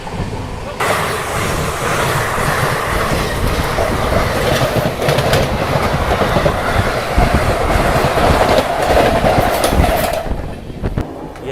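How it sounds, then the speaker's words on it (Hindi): The Malwa Express rolls steadily just after leaving the station, with loud continuous rumble and clattering wheels heard close from inside the coach for about ten seconds. The sound fades near the end. "हमारी ट्रेन अभी शियोर से डिपार्चर हो चुकी है।"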